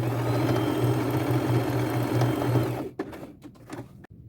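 A sewing machine running a straight stitch on fabric, a steady close mechanical whir for about three seconds that then stops, followed by a few faint clicks and handling sounds.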